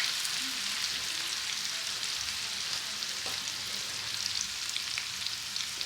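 A spiced Indian base gravy with ratanjot fries in a pan while being stirred, a loud, steady sizzle running throughout with occasional small scrapes and pops and no talk.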